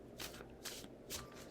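Tarot cards shuffled by hand in three quick riffling bursts, close and fairly quiet, with no talking.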